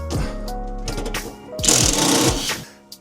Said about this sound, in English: Just going to take them 2 bolts out of bulkhead.